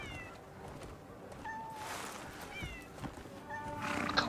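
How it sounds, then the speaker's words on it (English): A big, fat cat in the open-world video game Crimson Desert meows several times in drawn-out, rising calls over a low game ambience, fairly close and clear. "That's a big fat cat."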